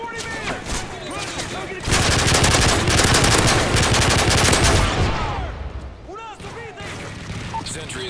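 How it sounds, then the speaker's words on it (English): Gunfire in a military video game: sustained bursts of rapid automatic shots, loud and dense in the middle and thinning to scattered cracks, with shouted voices over the fighting. "Sentry is taking heavy fire."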